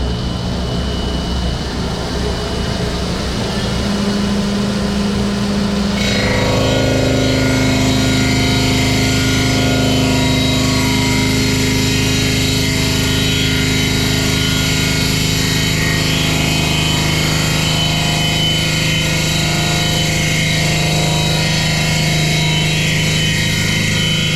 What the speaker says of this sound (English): What he has on there is a milling wheel, and he just cuts it down just about 1/4 inch or so